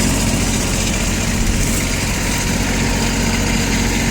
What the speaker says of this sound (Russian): Можем услышать здесь работу фрезы